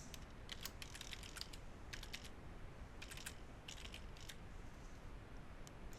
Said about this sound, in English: I can type in my email address,